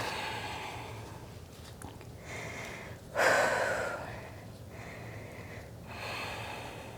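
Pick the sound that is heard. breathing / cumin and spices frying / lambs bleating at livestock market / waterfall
breathing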